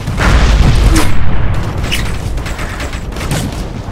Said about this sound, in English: We're taking heavy fire here.